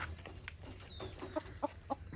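A rooster clucks in a few short, soft bursts against a steady background hum.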